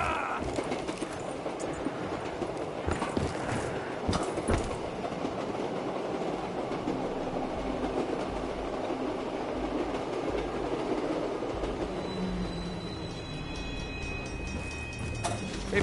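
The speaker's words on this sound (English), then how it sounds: "Maybe I should just keep riding the train." Riding a train in the Black Ops 3 zombies video game: a steady rumbling rail rattle with clattering wheels runs continuously throughout, fairly loud, with no talk over it.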